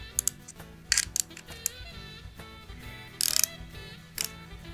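A ratchet wrench tightens nuts on a motorcycle tail tidy for an XT250, giving short close bursts of sharp clicking pawl ratchets separated by pauses, with metallic handling sounds between.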